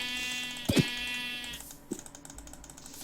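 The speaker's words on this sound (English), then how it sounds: "I heard a sheep." A single Minecraft sheep bleats, a wavering nasal bleat of about a second, followed by clicky computer keyboard tapping and a couple of soft in-game thumps.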